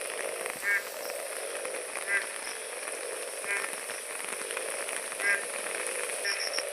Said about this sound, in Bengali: আর ব্যাঙের আওয়াজ তো শুনতেই পাচ্ছ তোমরা।